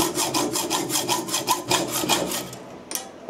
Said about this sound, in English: I'll finish it off with a hacksaw so I didn't drop the part and damage the thread.